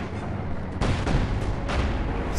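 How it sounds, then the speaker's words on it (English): Cannon fire in the video game Company of Heroes 2: a few loud, heavy booming shots in quick succession, with a continuous rumble of battle noise around them. "Fire the cannon!"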